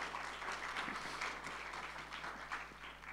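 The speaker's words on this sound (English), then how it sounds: "Of applause for Mr. Lee again, please." A crowd at a film master class in India applauds a guest director, giving a continuous, even round of clapping from a room full of listeners, slightly distant and unbroken, with a faint low hum beneath.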